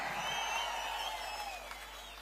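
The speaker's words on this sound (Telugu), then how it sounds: "గట్టిగా చప్పట్లు కూడా చెప్పండి అవునని" A large crowd at a political rally in Kuppam claps and cheers together, a broad wash of applause that holds steady and then eases slightly, with no talk on top.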